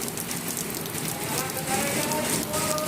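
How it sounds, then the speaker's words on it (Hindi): Steady rain falls outdoors, a dense, continuous hiss of drops pattering on surfaces, close and even throughout with no talk. "माहौल देखो सही बारिश का"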